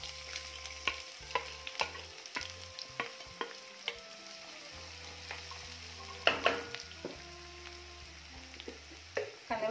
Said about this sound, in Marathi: तेल चांगलं गरम झाल्यानंतर इथे मी 1 मोठा कांदा बारीक चिरून घेतलेला आहे.